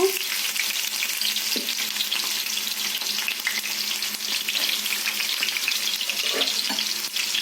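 Onion pieces frying in hot tempered oil in a pan for a village-style tomato and green chilli curry, giving a continuous close, bright sizzle with a few soft clinks of stirring.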